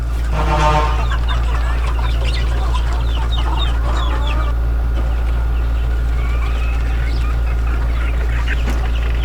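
Dark-feathered chicks peep continuously in a dense, overlapping chorus with occasional clucks, close and loud, over a steady low hum in a rural province setting.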